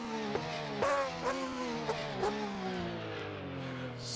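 Virtual McLaren GT3 race car in rFactor 2 heard from outside, engine revving up and down in repeated sharp bursts with shifting gear-change blips, loud and close with no talk.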